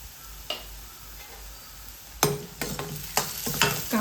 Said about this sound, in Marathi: जास्त गोल्डन ब्राऊन करायचं नाही कांदा, फक्त मऊसर होईपर्यंत परतून द्यायचा आहे.